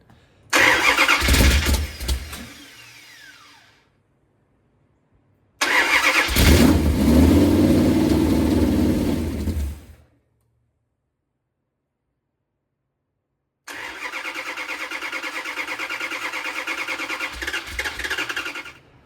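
A Little Red Express truck with a 360 engine and a wired-on exhaust cranks and fires in three separate bursts of starting and revving, loud and close, with silent gaps between attempts and a steadier run at the end.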